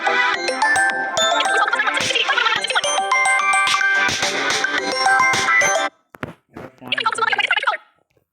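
A phone ringtone plays during a Free Fire Clash Squad match, with a dense, loud melodic jingle for about six seconds, then a short pause and a few more bright chiming bursts.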